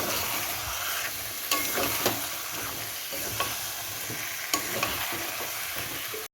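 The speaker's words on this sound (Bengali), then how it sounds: "কারি পাতা দিয়ে চিকেনটাকে দিয়ে মশলার সঙ্গে ভালো করে আবার কষাবো" Chicken sautés with curry leaves and spices in a pan, giving a dense, constant sizzle with a few spatula scrapes, until the sound cuts off abruptly at the end.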